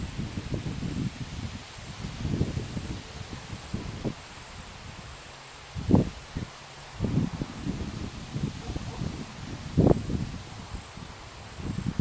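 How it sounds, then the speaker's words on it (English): Wind gusting at an outdoor shooting spot, buffeting the microphone with uneven low rumbles and rustling swells that rise and fall over several seconds. "it is windy out here today"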